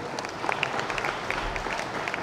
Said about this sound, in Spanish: le pido un aplauso para los compañeros de audio